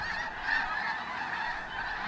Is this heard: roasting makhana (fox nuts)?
no